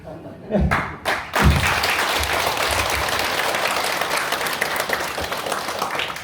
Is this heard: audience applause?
yes